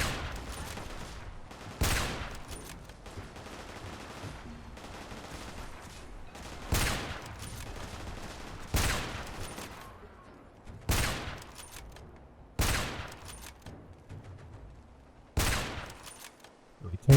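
Loud single gunshots from the video game Magnum Opus, about seven sharp cracks at irregular intervals of one to three seconds, each with a short decaying tail, over quiet background ambience.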